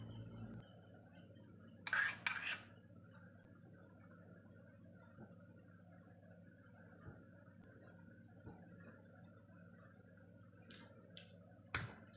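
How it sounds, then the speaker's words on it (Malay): Shrimp being mixed by hand with turmeric and other ingredients for fried turmeric shrimp, giving a few brief, close utensil clinks against a bowl, one cluster early and another near the end, over a quiet kitchen background. "gaul bahan dengan udang, kunyit"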